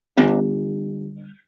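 A single plucked third string on a small guitar rings out alone, a bright attack followed by a steady tone that fades away over about a second.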